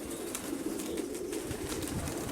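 Soft pigeon coos over a steady background hiss of strong wind, with faint higher chirps scattered throughout.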